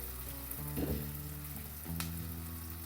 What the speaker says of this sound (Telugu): చక్కగా బ్రౌన్ కలర్ వచ్చేంత వరకు వేయించుకోవాలి